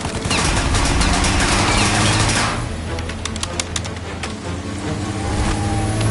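Rapid gunfire in a Mafia shootout aimed at a car windshield: dense loud bursts at first, then sharper separate shots cracking over a steady engine drone.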